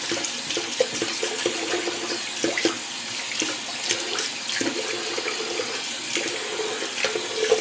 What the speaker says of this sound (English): Lots of hair in the sink, man. I'm just gonna rinse some of this down.